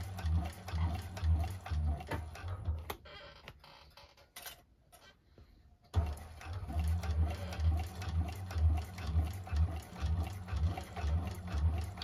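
A 1341 cylinder arm sewing machine stitches a bag with a steady, fast mechanical hum and rapid needle ticking, pausing for a few seconds midway before running again at full speed, close and loud.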